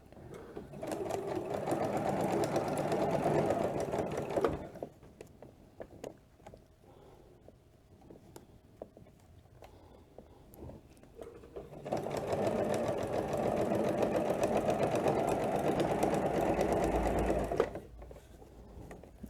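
A sewing machine stitching through layered quilt binding runs in a steady whirring burst, pauses for several seconds of quiet handling, then runs again at the same even pace before stopping.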